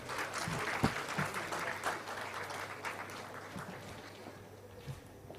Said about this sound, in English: Can we have a round of applause for ma'am?